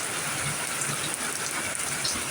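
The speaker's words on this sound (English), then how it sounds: "but yes, it's raining" Steady rain pours during a heavy downpour of about eight inches, a dense, even hiss that holds constant throughout with no voices.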